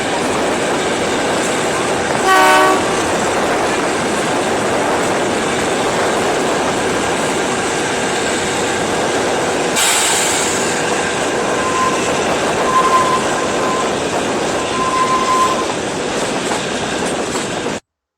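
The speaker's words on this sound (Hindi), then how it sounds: "मेरी आंखों का प्रियतम प्रतिबिंब भारतीय रेलगाड़ी जिसे खड़े होकर जिंदगी भर निहार सकता हूँ" An Indian train passes on the railway tracks with a loud, continuous rumble and clatter of wheels on rail. A brief tonal burst comes early, and a sharp swell comes near the middle, up close and sustained until an abrupt end.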